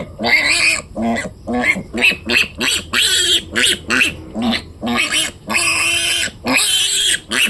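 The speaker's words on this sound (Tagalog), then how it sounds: "yung biik natin na 5 days na biik" Five-day-old piglets squealing loudly and close in a rapid series of shrill, repeated cries with brief gaps, during handling for iron injections.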